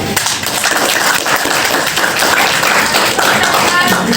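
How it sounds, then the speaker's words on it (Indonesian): Dense applause from a group, steady clapping filling the room with some voices mixed in. "Terima kasih. Tepuk tangan dulu."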